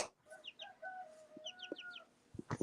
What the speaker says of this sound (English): My chickens are knocking at the back door.